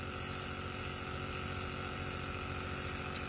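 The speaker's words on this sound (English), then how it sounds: "since it is a wider nozzle, it sprays a little bit bigger, so you can get this done really quick" An airbrush-style food colour sprayer with a wide nozzle hisses continuously while tinting decorated pumpkin-shaped sugar cookies, a steady close spray with a faint mechanical buzz and no talking.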